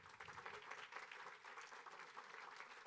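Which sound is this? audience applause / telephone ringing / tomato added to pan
audience applause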